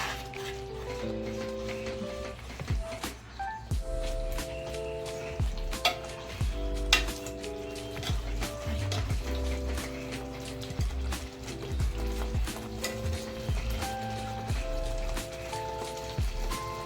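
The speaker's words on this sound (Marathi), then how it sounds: "आपल्याला ग्रेव्हीला ढवळत राहायचंय" Veg kurma gravy bubbling and sizzling in a pan as it is stirred, with soft scraping and spatula taps over a steady simmering hiss throughout, no talking.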